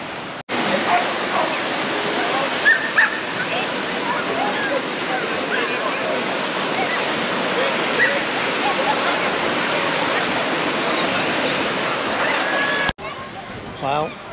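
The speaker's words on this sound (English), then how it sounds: "This here is Porthgwydon Beach in St Ives." Sea waves at Porthgwydon Beach in St Ives make a dense, steady roar of surf, loud and continuous like rushing water, with faint background voices mixed in before it cuts off abruptly near the end.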